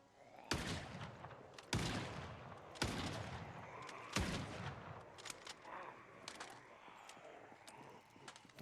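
Gunfire in Project Zomboid: four sharp, loud shots spaced about a second apart, followed by quieter scattered sounds and a final crack at the end.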